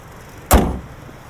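A single heavy thud as the hood of a 2022 Hyundai Tucson XRT AWD is shut, loud and close, with a brief metallic ring fading out afterward.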